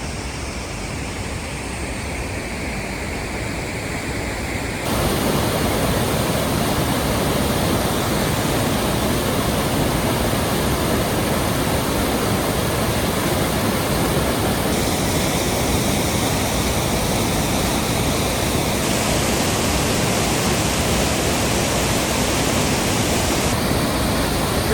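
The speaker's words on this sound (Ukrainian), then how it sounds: "Це річка" A rushing river near Kamianka waterfall in the Carpathians roars as a dense, constant broadband wash of water, loud and unbroken throughout, with no voices.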